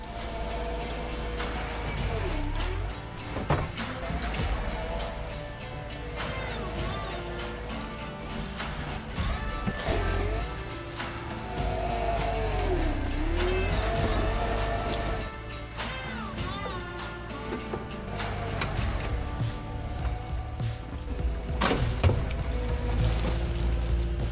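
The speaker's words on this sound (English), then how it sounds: "I have never tried to dig a trench with the bucket on the skid steer." Skid steer working its bucket to dig a trench for a pond: a steady, close diesel engine drone with rising and falling hydraulic strain and occasional clanks, continuous throughout.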